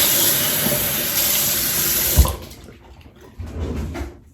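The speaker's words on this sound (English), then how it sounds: "All right, and then I'm just gonna rinse this off." Tap water runs steadily into a sink while a face is rinsed, a close, continuous rush that gives way to softer splashes and dripping.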